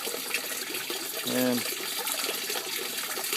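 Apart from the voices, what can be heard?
water flow in an aquaponics system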